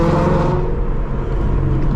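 A 2016 Mustang 5.0 with Corsa Extreme exhaust and Kooks headers gives a loud, steady, close engine roar that holds for about two seconds.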